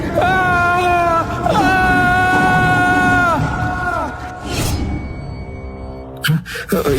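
Woman in a horror story screaming, loud high wailing cries that rise and fall in several long bursts, with commotion and crashing noises toward the end.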